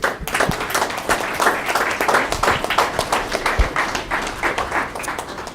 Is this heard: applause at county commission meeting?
yes